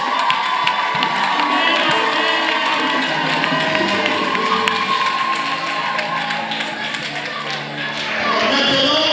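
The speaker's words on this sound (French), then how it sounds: "Applaudissez." Wedding guests in a church cheer and shout together with some clapping, a loud, lively crowd sound that holds steady for several seconds before briefly easing and swelling again.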